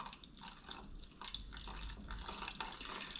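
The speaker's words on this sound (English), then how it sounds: "slowly adding the cold water" Cold water runs and trickles steadily into a pot of cooking cornmeal mush, a continuous splashing pour with no voices.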